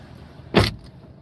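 Electric power window of a hot car sliding down, a brief smooth whir of about a quarter second, close and fairly loud over a quiet cabin.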